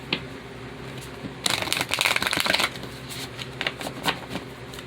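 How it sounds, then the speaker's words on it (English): An Angels and Ancestors oracle card deck is shuffled close up, with a dense riffling burst in the middle followed by lighter scattered card flicks and taps. "Now, some Oracle cards. This is the Angels and Ancestors deck."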